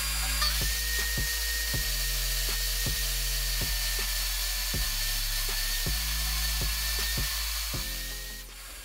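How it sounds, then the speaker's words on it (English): Half-inch plywood backboard being cut with a power saw for a wall tool organizer, a loud continuous whining motor with repeated regular thumps and pulses throughout, close and steady, with no talking. "After I finished cutting the backboard,"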